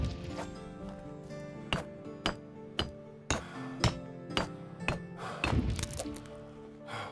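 A hammer strikes a stone wall in the medieval village-building game Medieval Dynasty: about a dozen sharp, hollow thunks with a chinking edge, spaced unevenly and then bunching closer together near the end, heard alone and fairly close.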